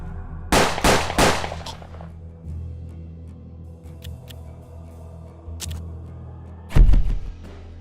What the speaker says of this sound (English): Here Warren is using the fanning ability to shoot multiple shots at the same enemy, dealing massive damage.